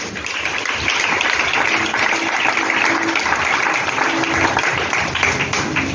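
A church congregation applauds, a dense, even wash of clapping that holds steady throughout at moderate loudness, with faint voices mixed in.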